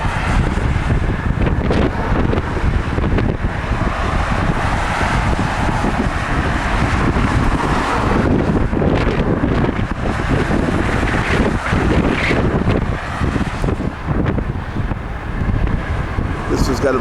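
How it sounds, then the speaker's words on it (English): Heavy wind buffets a camcorder's built-in microphone outdoors on a windy height, a constant loud low rumble and roar that fills the whole stretch with gusty surges. "That's the wind shaking the camera."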